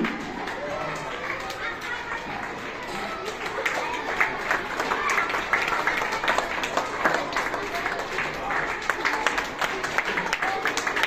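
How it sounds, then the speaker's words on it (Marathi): A school audience claps at a student election event, dense, fairly even applause from many hands lasting throughout, with some crowd murmur and possible footsteps mixed in. "जोरदार टाळ्या वाजवायची."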